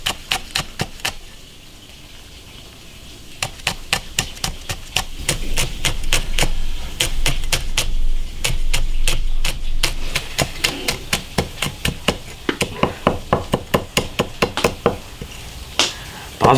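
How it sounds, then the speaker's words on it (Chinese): A cleaver minces bird's eye chili peppers on a board with fast, uneven runs of sharp close taps, pausing now and then before picking up again, no voices. "把这个小米辣剁碎，"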